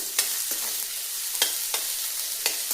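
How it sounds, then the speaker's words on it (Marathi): Ridge gourd sizzles steadily as it fries in hot oil in a wok, with sharp scraping clatters of stirring at irregular intervals. "आता त्या तेलामध्ये मी दोडका टाकते"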